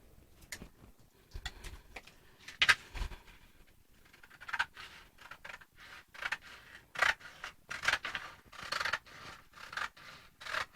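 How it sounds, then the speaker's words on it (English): Scissors cut out a paper skirt pattern in a quiet room: a soft, irregular series of snips, rustles and paper scrapes, close by and fairly faint, with short pauses between bursts. "So let me cut my skirt pattern out now, so that you can see."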